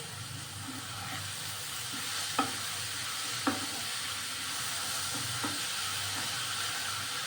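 Grated beetroot frying in a pan gives a faint, steady sizzle with a few light clinks of a utensil, quiet and close, no talk.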